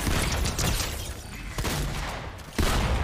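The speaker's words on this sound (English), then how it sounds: "none of those shots registered" Video game gunfire comes as dense bursts of rapid shots that run almost continuously, then a louder burst at the end, with no talk over it.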